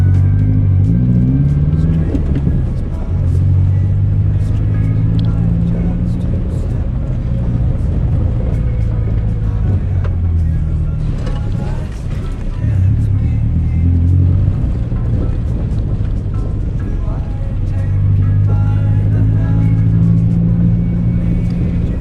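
Steady engine drone and low rumble from a Subaru XV creeping slowly along the rocky Kidman Trail in Australia, loud and continuous throughout with occasional rises in revs and no talking.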